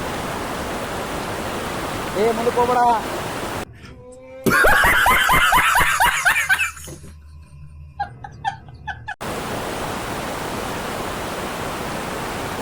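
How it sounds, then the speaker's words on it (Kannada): Water at Hosur Falls in Karnataka rushes in a steady broadband roar. Voices and laughter break in partway through, then the continuous water noise returns alone. "ಇಲ್ಲೇ ಕೆಳಗಡೆ ಇರೋದು ಫಾಲ್ಸ್"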